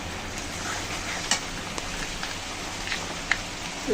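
Spice paste with cardamom, cloves and cinnamon sizzles in oil with fried onion and garlic, a steady close hiss broken by a few small clicks and pops.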